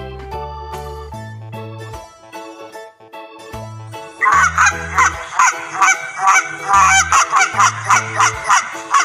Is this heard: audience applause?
no